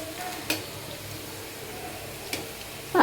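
Soya 65 chunks sizzle quietly in hot oil in a pan, with a steady low fry broken by a few soft clinks as the chunks are turned and a brief scrape at the end.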